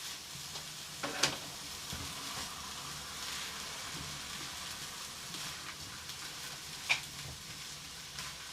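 Pre-cooked yellow rice for chicken fried rice sizzles softly in a pan while being stirred, a faint, steady crackle with a couple of brief scraping clinks, fairly close but quiet.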